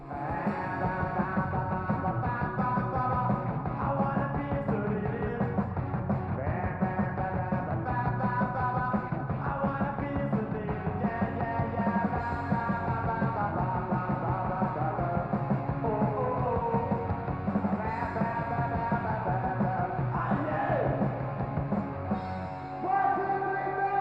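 A punk rock song plays, with driving guitars and drums and a shouted vocal line, loud and steady throughout.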